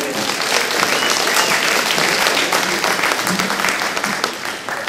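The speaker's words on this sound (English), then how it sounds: "Give him a round of applause!" A crowd on hand for an on-stage introduction claps loudly and steadily for the whole short stretch, close and dense, with no voices over it.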